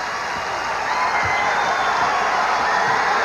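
DePaul's home crowd roaring at a 1987 Midwest Regional semifinal college basketball game against LSU, a dense, sustained wash of cheering and whoops filling the arena, loud and steady throughout.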